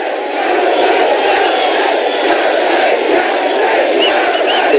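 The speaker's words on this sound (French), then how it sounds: "la foule de plus en plus bruyante dans ce Rose Bowl" A stadium crowd at the Rose Bowl during a Manchester United versus LA Galaxy friendly, a broad, sustained roar of many voices that swells and holds, with chanting mixed in.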